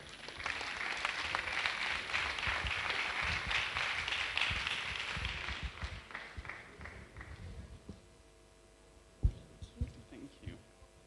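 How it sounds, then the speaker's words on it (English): Audience applause at a university technology week event welcoming a speaker, a dense round of clapping that fades out after several seconds, followed by faint room noise and a few thumps. "let's welcome with a round of applause Mr. Stephen Beatson"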